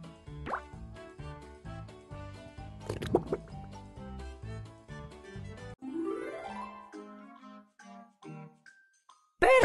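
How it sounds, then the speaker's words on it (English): Cartoon cake batter pours into a cake pan with wet plops, drips and squishy liquid sounds over light musical tones, ending with a rising slide. "Let's pour it into the cake pan to get it ready for the oven."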